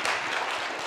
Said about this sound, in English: That was a lazy clap, right?